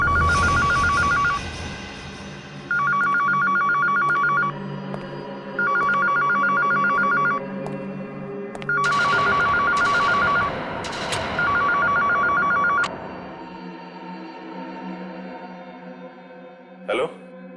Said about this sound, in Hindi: वो फोन उठाओ